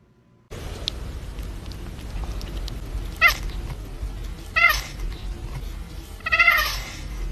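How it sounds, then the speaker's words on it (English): A house cat meows several times at night, short bright calls spaced a second or so apart over a steady low background hum, fairly close. "Don't meow in the middle of the night."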